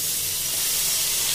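Sliced onions hit hot oil seasoned with asafoetida in a pan while cooking jackfruit curry, giving a steady, loud, bright hiss and sizzle with no talking.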